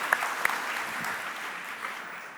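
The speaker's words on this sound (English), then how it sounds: "Round of applause for Claudia." Applause at a Diversity in Tech awards ceremony, a steady, moderately faint wash of clapping from an audience, with a couple of sharper claps standing out near the start.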